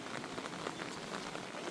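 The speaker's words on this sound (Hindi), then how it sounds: "इस बारिश में।" Rain patters steadily on a tin roof shed, a dense, even hiss of drops that holds faint and unbroken throughout the short stretch, with no voices.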